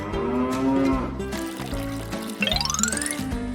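A cow gives a loud, close moo that wavers and fades, followed by a rising gurgle of liquid being poured, heard during a toy-kitchen cooking scene.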